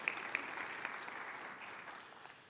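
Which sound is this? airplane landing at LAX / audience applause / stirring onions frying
audience applause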